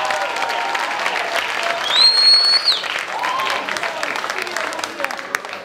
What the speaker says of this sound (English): can we have a round of applause for her